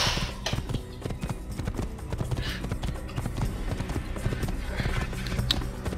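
Galloping horse hooves in Assassin's Creed, a steady rapid clip-clop drumming throughout at close range over a busy game soundscape with occasional faint background voices.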